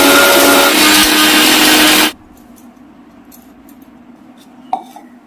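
A new blender grinds spicy ingredients with a loud, dense whirring roar for about two seconds, then cuts off abruptly, leaving quiet room tone and a soft clink or two.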